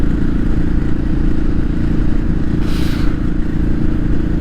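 A Royal Enfield 500 motorcycle rumbles steadily up close on a ride, with a deep, even thumping engine note and a brief rush of wind or scraping noise partway through.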